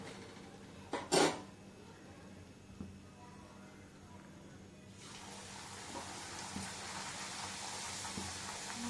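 Luchi, puffed flatbread, dropped into hot oil starts a steady, crackling sizzle about halfway through and keeps it up close by, after a few brief kitchen clatters in a quieter stretch.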